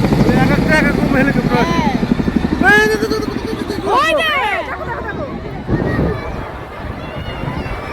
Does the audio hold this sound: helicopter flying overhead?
yes